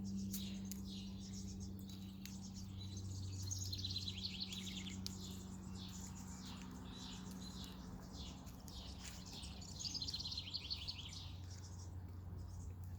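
Birds chirp and sing in a home garden on a calm June day, with repeated high tweets rising over faint steady background noise, moderately distant and without talk.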